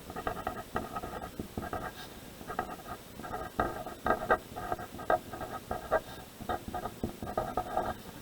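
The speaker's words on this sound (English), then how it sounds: "So let's write that down." Pen or marker strokes scratch across paper in quick, irregular bursts while notes are written down for a math lesson, close and fairly quiet, with no talking.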